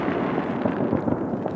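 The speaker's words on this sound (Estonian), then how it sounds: "Pauguraketid veel, neid võib lasta." Firecrackers set off during a 2019/2020 New Year celebration, giving a dense, continuous crackle of overlapping pops and bursts at steady loudness, with no voices heard.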